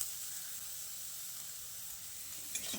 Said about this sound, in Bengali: বেগুনগুলো আমি এরকম লালচে করে ভেজে নিয়েছি।